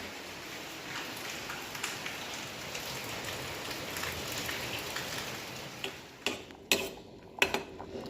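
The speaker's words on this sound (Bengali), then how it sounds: "আর বৃষ্টি পড়ছে তো সমানে, ঠান্ডা ঠান্ডা ওয়েদার" Steady rain patters on a surface on a cool, rainy morning, a continuous soft hiss of drops with a few sharper ticks and drips toward the end.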